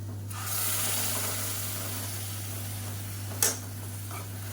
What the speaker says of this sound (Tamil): ஒரு ரெண்டு நிமிஷம் வதக்கி விட்டுக்கலாம் மீடியமான ஃப்ளேமில்